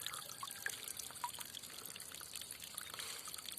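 Water trickling at a small stream waterfall, a steady soft splashing wash with a few brief droplet pings, faint and continuous throughout with no talk.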